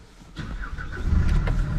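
An old van, called a bus, cranks and its engine catches, settling into a low, rising idle rumble close by in the dark.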